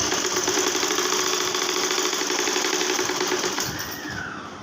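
A sewing machine top-stitches a seam on baby pants, running as a fast, even mechanical chatter for most of the clip before slowing and trailing off near the end.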